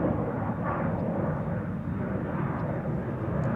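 A United Airlines Boeing 787 Dreamliner at Schiphol Airport gives a steady, broad jet engine roar that stays loud and even throughout, with no talk over it.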